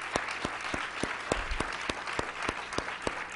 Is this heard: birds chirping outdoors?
no